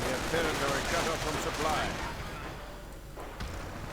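Heavy .50 caliber machine gun fire in a World War II strategy video game comes as a dense rolling roar of rapid bursts. It is loud at first, then thins out and fades after about two seconds, amid battle noise.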